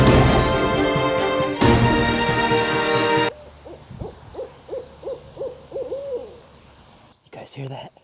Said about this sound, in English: There's two owls communicating to each other.